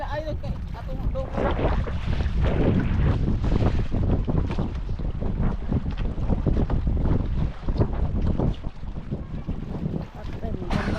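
Strong wind buffets a boat at sea, a loud, continuous roar of gusts and microphone rumble with water noise underneath, holding steady throughout with brief dips, while voices can be heard now and then.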